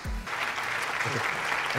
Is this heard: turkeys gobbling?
no